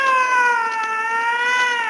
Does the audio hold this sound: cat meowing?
yes